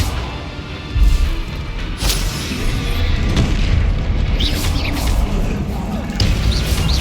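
A Bombarda blasting spell in the Hogwarts Legacy video game goes off as a loud, booming explosion, followed by sustained crashing rumble and debris noise that fills the scene.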